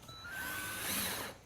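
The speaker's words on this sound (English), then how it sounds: "I'm going to put the screws in it so we can hold the two pieces of plywood together" A power drill runs in one short, steady whirring burst of about a second and a half, driving a screw through pre-drilled plywood sheets while a boat is being built, fairly quiet with no talk.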